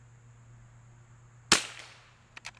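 A single .22LR rifle shot fired from a bag rest cracks sharply in the middle and rings off briefly, followed by a few faint clicks near the end over an otherwise quiet background.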